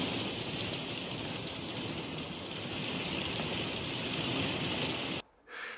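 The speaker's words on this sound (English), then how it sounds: "So it's been raining pretty much all day. I'll just play a clip of it chucking it down now." Heavy rain pours steadily onto a conservatory roof, a loud, dense hiss of drumming drops that continues without a break and then cuts out abruptly near the end.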